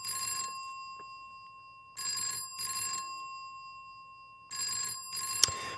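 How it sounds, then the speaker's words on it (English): Telephone bell ringing in short bursts, each buzzing ring separated by silence and repeating as a seamless loop, fairly quiet and isolated. "what we've now created is a indefinitely ringing telephone"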